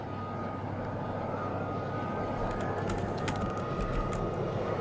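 Aircraft engine spooling up in the military simulation game ARMA, a steady, loud droning roar with a rising whine holding throughout, with no talking over it.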